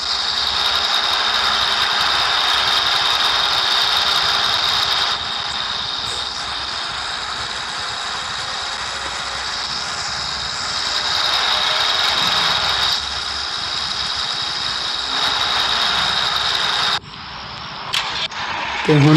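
A loud, fully modified tractor engine runs steadily with a harsh, high-pitched drone, shifting slightly in tone partway through before dropping off near the end.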